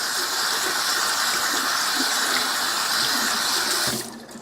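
Kitchen tap water runs steadily into a sink as raw carrot cake ingredients are rinsed, a continuous close hissing stream that stops abruptly near the end.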